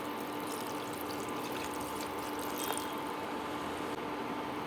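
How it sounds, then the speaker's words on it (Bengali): Water poured into a pan of fish curry with drumsticks and fried potatoes, a steady close splashing hiss that stays even and unbroken throughout, with no voices over it. "এরপরে পরিমাণ মতো জল দিয়ে দেব।"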